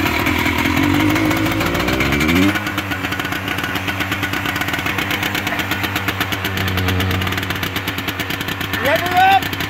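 A homemade vacuum cleaner motor runs and revs, a loud, rough, buzzing engine-like drone with rising pitch sweeps as it speeds up, close by, with voices talking over it.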